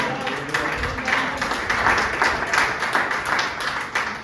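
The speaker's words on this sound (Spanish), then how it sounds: "Denle otro fuerte aplauso al Señor." A church congregation claps together in a lively, rhythmic burst of applause, with voices mixed in beneath the clapping.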